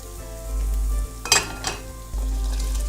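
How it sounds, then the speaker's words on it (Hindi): Basmati rice tipped into a pot of boiling water on a stove, giving a short burst of splashing and sizzling hiss between steady bubbling, with no one talking. "ये बिल्कुल पानी बॉयल हो चुका है। अब हम इसमें ऐड करेंगे हमारे राइस।"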